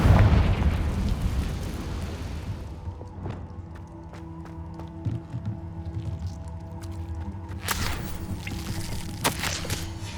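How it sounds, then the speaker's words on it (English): Bombarda and Confringo spells detonate in Hogwarts Legacy, a heavy booming blast up front that decays into rumble, followed by a series of sharp cracks and bursts. "Bombarda! Confringo!"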